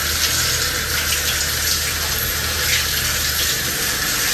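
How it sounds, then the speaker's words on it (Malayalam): Tap water running over tomatoes being washed at a kitchen sink, a steady even gush of water with no breaks and no talking. "നമുക്ക് ആദ്യം ടൊമാറ്റോ ഒന്ന് കഴുകി വെക്കാം"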